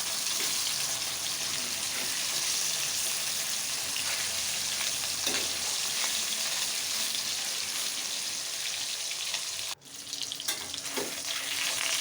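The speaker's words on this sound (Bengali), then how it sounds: "মাছগুলো উল্টে পাল্টে ভেজে নেব" Pieces of rohu fish fry in hot oil as they are turned, giving a loud, steady close-up sizzle that briefly dips near the end before crackling on.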